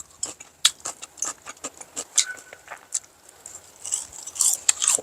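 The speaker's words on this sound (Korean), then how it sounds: "들려요? 아삭아삭?" Crisp, irregular crunches of kimchi being bitten and chewed up close, bursts of crackling spaced through a quiet background.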